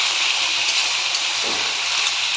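Kachki fish chochori fries in a wok while being stirred, giving a constant loud, hissing sizzle with a brief scrape partway through.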